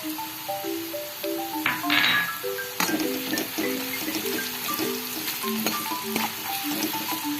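Spice masala sizzling in hot oil with fried onion, garlic and ginger, a steady close crackle with stirring scrapes, no talk.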